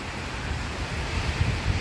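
Sea waves rolling near a small boat at sea, a steady wash of surf and wind noise with low rumbling swells, heard alone.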